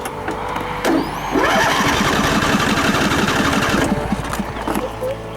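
A riding lawn mower engine cranks with a whirring starter, catches and revs up, then runs in a rapid loud chatter before cutting back near the end.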